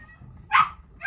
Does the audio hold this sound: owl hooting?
no